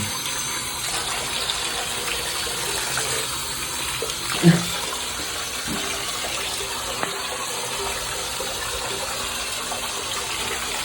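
Water gushes steadily over a bathroom's surfaces as it is wetted down for cleaning. A continuous loud spray runs throughout, with a brief splash partway through.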